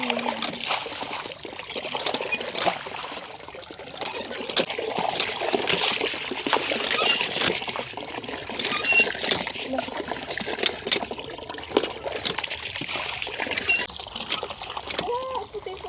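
Water trickles and splashes continuously as a container is filled during a house move, a soft, steady liquid sound heard close by while people talk over it.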